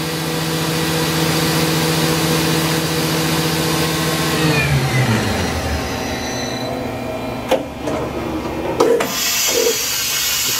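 A Fadal 4020HT vertical machining center from 2007 running its spindle at 10,000 RPM, a steady loud tonal whine that shifts pitch partway through, followed by a few sharp mechanical clunks.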